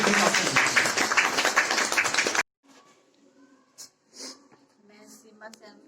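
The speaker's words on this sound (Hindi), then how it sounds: "तो जोरदार तालियां" Audience applause at a school New Year celebration, a loud burst of dense clapping for about two seconds that cuts off abruptly, followed by quiet room noise and faint breathing.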